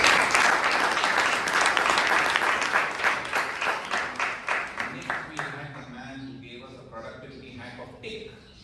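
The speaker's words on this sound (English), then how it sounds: "So please give her a big round of applause." At a Toastmasters club meeting, a crowd applauds loudly, then the clapping thins into slower rhythmic claps and fades as a voice starts speaking.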